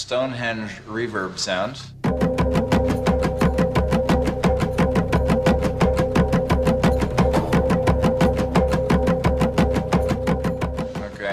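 After a brief spoken introduction, a recorded Stonehenge drum rhythm plays back as a loud, steady, rapid train of evenly spaced beats that continues to the end.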